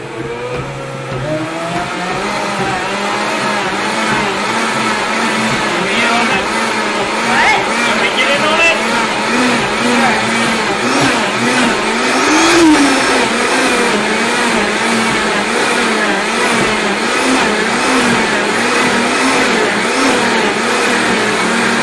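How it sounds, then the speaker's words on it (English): Vitamix blender grinding thick nut butter for avocado brownies, a steady loud motor drone with pitch wavering as the load shifts, running continuously with voices talking over it. "why Vitamix is supposed to be the best thing to make nut butters in"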